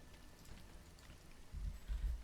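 Faint steady rain from a storm in the video game Against the Storm, a soft continuous patter with no talk and a few low thumps near the end.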